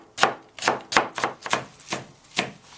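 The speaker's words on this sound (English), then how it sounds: "And I can chop like that." Six firm knife chops land on a cutting board through vegetable stems, evenly spaced about half a second apart and close up.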